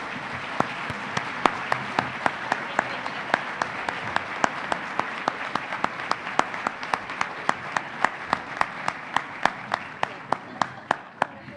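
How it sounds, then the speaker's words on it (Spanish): Strong applause for awardees at an international constitutional law congress, with steady, sustained clapping and distinct sharp claps standing out on a regular beat throughout, fairly loud and close, with no talk. "Voy a pedirles que les demos un muy fuerte aplauso"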